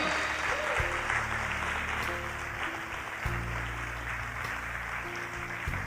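Church congregation clapping in praise during a sermon, steady rhythmic applause over low sustained organ or keyboard chords, moderately loud and continuous for several seconds.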